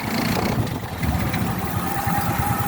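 A Rusi motorcycle engine idles close by with a low, steady, throbbing pulse that holds at an even pace throughout, with no voices.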